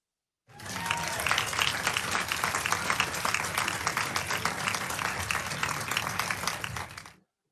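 Applause rings out for an award recipient at a virtual ceremony, a sustained wash of many clapping hands that starts suddenly, holds steady for several seconds and then fades away.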